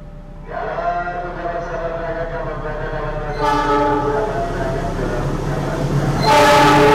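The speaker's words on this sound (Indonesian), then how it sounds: "disusul oleh kereta api Argo Dwi Pangga" The Argo Dwi Pangga passenger train goes by at speed, its horn blaring in a sustained, loud tone over heavy rail rumble that swells as the train draws closer.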